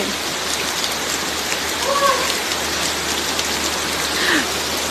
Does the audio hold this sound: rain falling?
yes